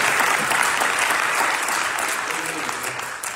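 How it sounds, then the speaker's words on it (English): An indoor church congregation breaks into sustained applause, dense and steady clapping that holds loud for a few seconds before gradually tapering off. "we want to give Brother Richardson another applause for that wonderful help."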